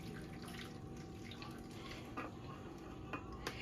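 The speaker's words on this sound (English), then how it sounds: "just gonna go ahead and add this water to the bottom of your sheet pan." Water is poured into the bottom of a sheet pan to make a steam bath for baking a peach cobbler cheesecake, a quiet, continuous trickling with a few faint splashes.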